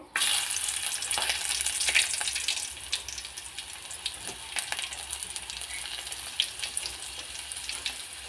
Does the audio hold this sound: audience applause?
no